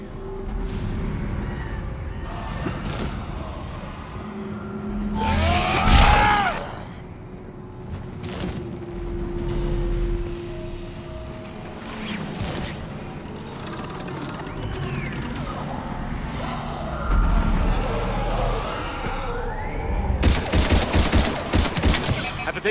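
Gunfire crackles through combat in the Mass Effect 3 demo. Rapid bursts of shooting surge several times over a constant backdrop of game noise and effects.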